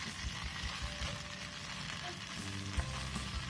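Pepper chicken gravy thickening in a hot pan while being stirred, a quiet continuous sizzle with soft scraping and a few low knocks, close but faint.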